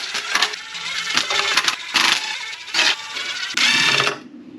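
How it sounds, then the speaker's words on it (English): Fasteners being removed from the oil pan of a Honda B-series engine, likely with a ratcheting or power tool, in bursts of buzzing mechanical whirring separated by short pauses, close up with no talking. "It's time to take off all the fasteners holding up the oil pan."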